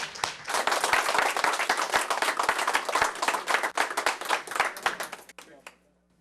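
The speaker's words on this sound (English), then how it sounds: "Would you give her a round of applause" A city meeting audience applauds a police and fire communications center worker with brisk, dense clapping that thins out and stops near the end, followed by quiet.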